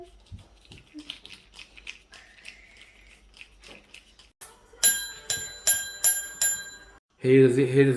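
A bicycle bell on a newly assembled 12-inch kids' bike rings crisply four times in an even rhythm, close and loud, after quiet handling noises, followed by a burst of louder clatter.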